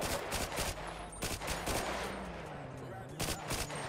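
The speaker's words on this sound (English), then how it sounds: "Okay, he's shooting back." Rapid bursts of gunfire in a video game roleplay shootout at a building, repeated volleys of sharp shots in quick clusters, loud and close throughout.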